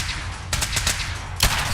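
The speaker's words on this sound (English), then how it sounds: "he's shooting through that wall again that I can't shoot" Enemy gunfire in Fallout 4 as a foe shoots through a wall: a rattling burst of several quick shots, then a single louder crack after a short pause, over steady game background.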